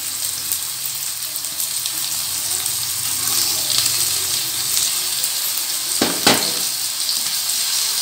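Ginger garlic paste fries in a pan with a steady, bright sizzle throughout, close and continuous, with a brief stirring scrape near the end.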